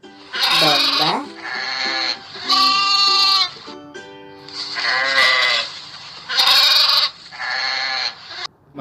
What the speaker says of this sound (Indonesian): teman-teman, ini namanya domba